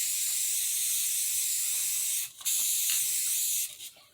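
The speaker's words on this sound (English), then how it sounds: "Technically, I should go outside to spray this, but it's only going to take a second" Semi-gloss clear coat hisses steadily from an aerosol spray can close by, one continuous burst with a brief gap near the middle and a second short stop before it trails off.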